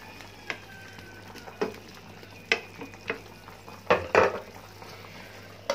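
Cauliflower curry cooking in a pan is stirred, with a faint sizzle under a series of separate clinks and scrapes of a utensil against the pan that come closer together near the end, no talk.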